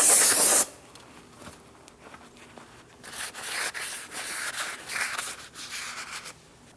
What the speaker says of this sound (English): We'll use some parts cleaner.